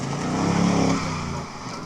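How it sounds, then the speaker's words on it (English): A car engine runs at a classic and sports car show, giving a loud, steady, close rumble that swells slightly midway and holds for the whole stretch without talk. "Listen to that engine, it's fantastic"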